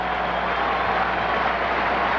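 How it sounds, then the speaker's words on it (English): A baseball crowd at Fenway Park keeps up loud, steady applause for the strikeout, a dense, even roar of many hands that fills the stadium without pause. "Rhythmic applause, hoping for the strikeout."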